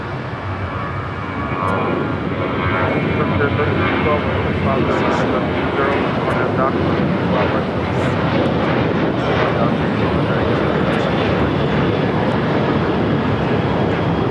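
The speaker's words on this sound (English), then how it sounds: "United Airlines Flight 2603 heading to SFO. It's a 737-900ER. Early rotation here on this Christmas morning." A United Airlines Boeing 737-900ER takes off from Los Angeles airport on Christmas morning, a loud, sustained jet engine roar building early and holding strong throughout, with a voice talking over it.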